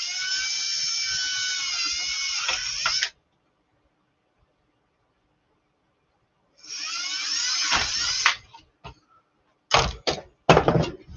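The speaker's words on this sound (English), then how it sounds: "I'm drilling the holes just to make my life easier, so I don't have to do as much cutting." A small electric drill bores holes into a plastic Bruder crane truck toy, whining in two long sustained bursts separated by a pause, then several short stop-start pulses, loud and close with no talking.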